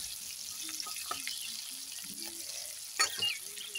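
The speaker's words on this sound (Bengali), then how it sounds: "এই চিংড়ি মাছটা আমি ভাজাই বসিয়ে দিলাম" Fresh prawns fry in a pan with a faint, steady sizzle, broken by a few soft clicks and a brief louder clatter near the end.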